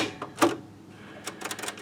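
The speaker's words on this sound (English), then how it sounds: "what looks like a shutter mechanism that I just pushed and it latched" The shutter mechanism inside a Christie LX66 LCD projector is pushed and latches, giving one sharp mechanical click followed a moment later by a brief cluster of small, light clicks.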